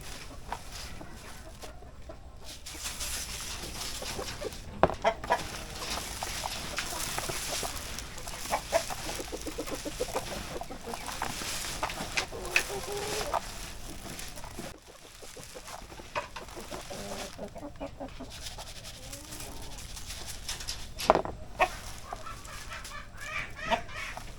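Native chickens cluck on and off in a busy farmyard, with scattered squawks over a constant low background, moderately distant and fairly quiet.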